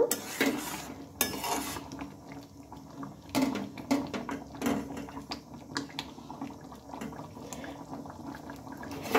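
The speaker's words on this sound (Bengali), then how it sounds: "এটা আবারও একটু নেড়ে চেড়ে নেব।" Tomato chutney is stirred in a pan with a metal utensil that clinks and scrapes against the pan at irregular intervals, sounding close and fairly loud, with no one talking.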